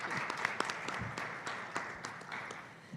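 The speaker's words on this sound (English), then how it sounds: "Let's give a round of applause to our speakers." Quiet applause from a conference audience for session speakers, soft distant clapping with a few sharper individual claps standing out, tapering off gradually.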